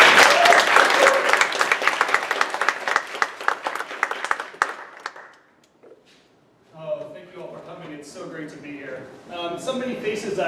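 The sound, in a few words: audience applause at a creative event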